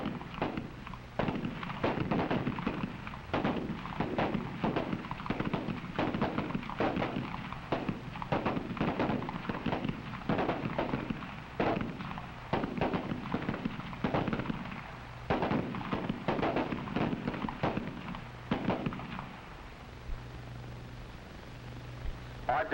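Repeated gunshots ring out along an FBI shooting range firing line, sharp cracks coming in an irregular rapid string for about twenty seconds, loud and close with a few overlapping reports.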